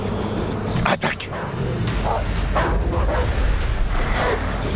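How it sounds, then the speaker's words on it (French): Dogs bark and yip in short bursts while attacking a man who was mowing a lawn, with a loud, steady background noise running under them and a voice mixed in. "Snipes prétend que Jerry Wilson lâchait ses chiens sur lui lorsqu'il tondait la pelouse."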